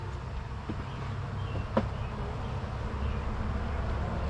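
A swarm of bees in a shop box keeps up a low, steady hum. A few faint knocks and a short sharp tap come from the box, with no voices.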